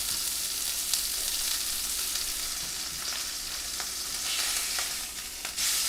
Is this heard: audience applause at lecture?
no